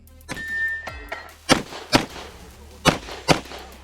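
Pistol shots fired on a quick 2-gun match stage, preceded by a short electronic start beep, then four sharp, loud cracks in two quick pairs close to the listener.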